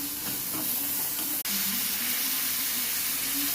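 Water is poured from a glass into a hot pan of sautéed chana dal, a steady hissing, steaming rush that cuts off for an instant midway and then continues.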